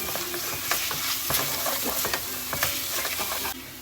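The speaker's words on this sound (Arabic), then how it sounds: "راح اضيف هسه الثوم المدقوق اقلبهم" Crushed garlic, onion and chicken sizzle steadily in a hot pan while a utensil stirs, scraping and clicking against the metal in irregular strokes, close and loud throughout.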